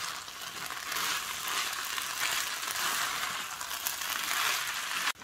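Vegetable rice mixture with chili powder being stirred in a hot pan over high heat: a steady, close sizzle of frying with scraping stir sounds throughout, ending in a sharp utensil clatter.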